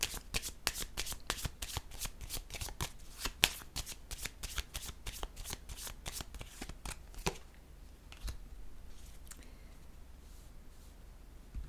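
A deck of playing cards is shuffled in a rapid, steady run of crisp riffling snaps for about seven seconds, then softer, sparser card sounds follow; close and clear with no talking.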